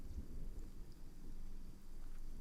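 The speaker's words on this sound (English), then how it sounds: "we can have, like, a little rain in the background" Rain and thunder ambience from the Spirit City Lo-Fi app, a steady wash of rainfall with a low rolling rumble underneath, continuous and even at moderate volume.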